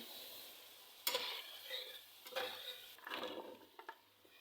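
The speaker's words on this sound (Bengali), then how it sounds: "এবার ভালো করে সুন্দর করে মশলাগুলি কষাই নেব" Ground coriander and cumin sautéed in a pan for a bottle gourd and snakehead fish curry, with faint sizzling and a few sharp scraping stirs and clinks spaced out over the quiet background.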